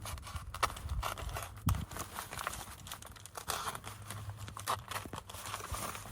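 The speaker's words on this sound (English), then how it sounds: "we're gonna take our utility knife here, and we're gonna just run it down where the zipper goes" A utility knife slices along the zipper line of a mobile home rodent barrier, giving faint scratchy, crinkling cuts and rustles close by, irregular and quiet.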